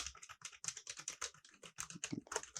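Rapid typing on a computer keyboard while entering HTML code, a dense run of close, crisp key clicks with brief pauses, heard alone without speech.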